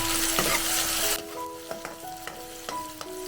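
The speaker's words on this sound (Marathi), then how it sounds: "कांदा आहे तो चांगला परतून घ्यायचा" A single chopped onion sautéing in a pan over lowered gas for black chana masala, a loud hiss at first that settles into a quieter sizzle marked by several clear spatula scrapes and taps; no speech.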